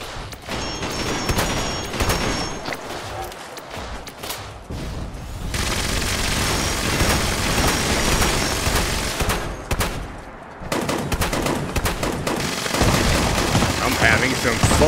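Dense machine-gun fire from Fallout 76 rattles almost continuously, loud and close, broken by a couple of brief pauses, with a voice speaking under the shooting at times.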